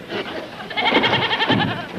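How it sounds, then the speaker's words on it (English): A goat bleats repeatedly in wavering, nasal cries, close and loud, with some voices murmuring in the background. "We'll put the goat beside Mr. Bedloe."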